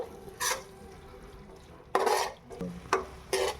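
A spice mixture cooking in a pan and being stirred, several short scraping stirs with soft sizzling between them, close and fairly quiet, with no talking.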